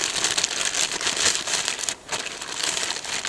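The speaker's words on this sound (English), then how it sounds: "Comes in a plastic bag." Close, continuous crinkling of a plastic bag wrapped around a heavy winch being handled, with a brief pause partway through before the rustling resumes.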